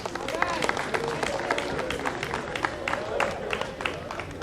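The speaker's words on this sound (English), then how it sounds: "So please give her a round of applause." An audience applauds with a dense patter of claps, moderately loud, mixed with crowd murmur and some voices underneath.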